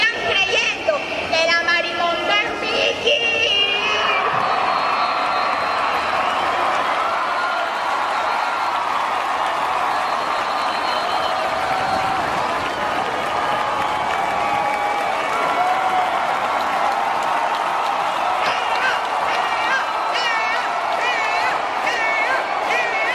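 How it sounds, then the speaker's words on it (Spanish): A big outdoor crowd at the Barranquilla Carnival proclamation reading in Plaza de la Paz cheers and applauds in a sustained roar, with amplified speech and voices cutting through at the start and near the end. "Teófilo Gutiérrez tuvo su gran momento de ovación en toda la Plaza de la Paz"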